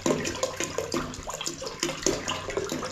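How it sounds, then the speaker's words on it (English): Filtered water pours into a brew kettle as a steady splashing stream, loud and close, with bubbly gurgles and no voices. "We've got 1 gallon of our filtered water in, and we're going to put in another 1/2 gallon."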